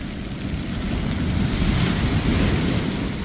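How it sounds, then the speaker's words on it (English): Ocean waves surge and break toward a small boat at sea, a steady loud roar of surf with heavy wind buffeting the microphone throughout, swelling slightly toward the middle. "Like a wall of water coming at me."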